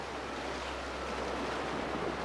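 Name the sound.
ocean waves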